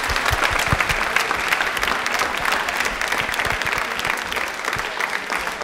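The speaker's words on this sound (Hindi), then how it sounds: "तो विवेक जी के लिए तालियां हो जाए जोरदार वाली।" A quiz audience at a Tribal Pride Day special program gives loud, vigorous applause. The packed, continuous clapping stays close and steady throughout, with sharp individual claps standing out and no speech.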